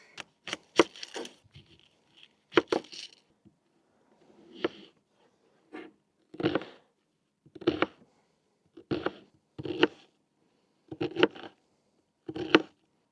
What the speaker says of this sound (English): now we've got some peeling and chopping to do. I'm gonna start with the onion